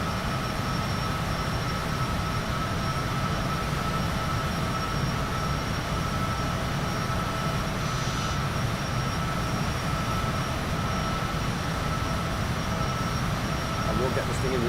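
Simulated jet engine roaring steadily at full throttle during takeoff in a flight simulator game, a constant broadband rumble that holds level throughout with no breaks.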